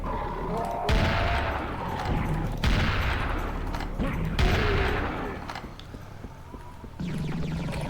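Rapid automatic gunfire from a Tommy gun in the Serious Sam video game, loud sustained bursts with short pauses between volleys and a final burst near the end, with heavy booming impacts underneath.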